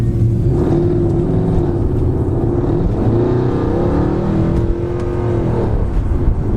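Tuned Mercedes C63 AMG saloon accelerates hard, its deep V8 engine note climbing through the revs, dipping at a gear change, then rising again, loud and close with no talk.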